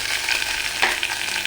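Chili, garlic and carrot sauté in hot oil in a pan for upma, a steady close sizzle with a brief stirring scrape partway through and no voices.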